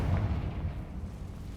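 A short, muffled, low rumbling blast from the Confringo spell in Hogwarts Legacy, dull and boomy, fading quickly.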